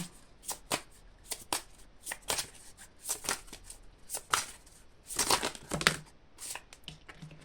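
Tarot or oracle cards are shuffled close by in repeated crisp riffling bursts and flicks, fairly quiet, with short pauses between the bursts.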